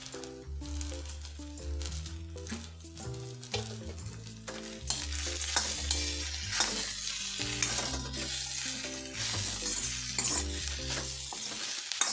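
Chana dal and peanuts dry-roasting in a pan for idli chivda, stirred continuously with a spatula: busy scraping and rattling of grains against metal, close and steady, with brighter bursts of rustling.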